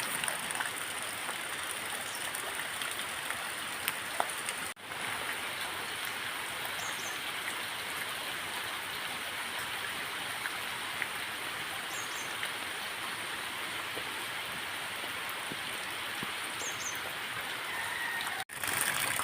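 Steady rushing of rainwater flowing around a house yard, a continuous even wash of noise with no pauses or voices.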